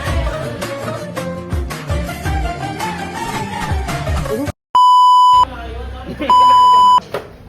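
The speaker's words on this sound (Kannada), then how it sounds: "beep beep beep beep" Two sharp, steady censor beeps cut over lively speech and background music, each lasting under a second.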